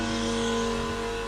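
Diesel tractor engine idling steadily close by, a loud continuous droning hum with no breaks and no speech, as the tractor, fitted with a mower, is refuelled.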